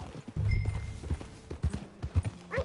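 Horse hooves clip-clop at a riding pace in Red Dead Redemption 2, close and rhythmic over a low rumble of movement, with a faint whinny-like tone in the background.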